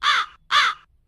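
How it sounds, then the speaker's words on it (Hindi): A crow caws twice, two loud harsh calls close by with a short pause between them, then silence. "कौवा काव काव कर रहा है।"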